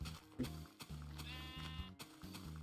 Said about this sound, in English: hunt pigs and hunt sheep over there